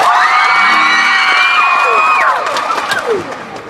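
A concert crowd at a sound check in Houston cheers for a song, a loud, sustained wave of high-pitched screams and whoops that thins out and fades toward the end.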